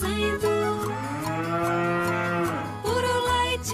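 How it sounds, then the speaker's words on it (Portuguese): Cow mooing in a Roblox musical, a loud, close, drawn-out bovine moo sounding amid a musical backing track. "A vaquinha mococa está mugindo."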